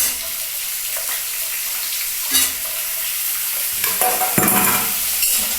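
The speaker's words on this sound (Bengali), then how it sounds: "এবার আলুগুলো আমি ভেজে নিচ্ছি" Potatoes fry in hot oil with bay leaves over a high gas flame, giving a steady, dense sizzle with occasional louder spatters and stirring scrapes, close and with no voices.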